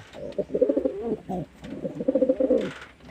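Madras pigeons coo close by in two rolling, throaty bursts of soft pulsing calls, separated by a short pause, with no talking.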